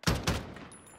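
A shotgun in the Call of Duty: Modern Warfare video game fires two loud, booming blasts in quick succession, each one leaving a ringing tail that fades out.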